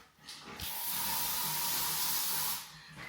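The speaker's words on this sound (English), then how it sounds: "Charlie, are you trying to spray that whole kind of air freshener in one go?" An aerosol can of air freshener sprays in one long continuous hiss lasting about two seconds, close and loud, inside an empty house, with short bursts of noise before and after.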